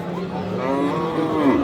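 A cow or bull lets out a long, loud, close moo at a rural cattle market at Aftabganj in Dinajpur, where Sahiwal cattle are being sold.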